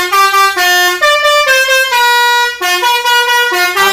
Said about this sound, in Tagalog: Andy, pakita natin yung mismong kinabit natin dyan na busina na Basuri 6 trumpet mga kabisyo